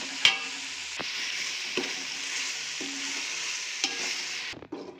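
Ginger garlic paste is stirred in a pan over a low flame for biryani: a steady, gentle sizzle runs throughout, punctuated by occasional soft scrapes and taps of the spoon.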